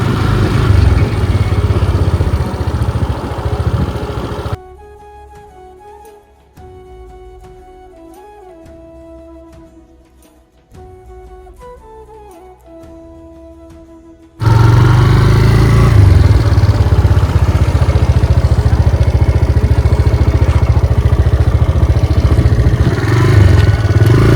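A motorbike engine rumbles loudly and close as the bike rides into a parking area, cut by a long quieter stretch of music midway before the engine noise returns just as loud.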